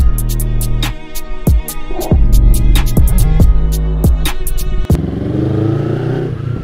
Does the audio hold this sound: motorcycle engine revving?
yes